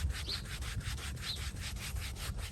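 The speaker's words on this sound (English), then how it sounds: "The orange side is for scraping, and that scrapes that" Scrub pad scouring mildew off boat upholstery: rhythmic back-and-forth rubbing strokes, close and fairly loud, a steady scratchy scraping with no voices.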